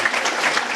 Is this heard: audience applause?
yes